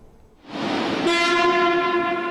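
A high-speed train at the Shanghai Hongqiao maintenance centre rumbles in, then sounds a loud, sustained horn tone that holds steadily to the end.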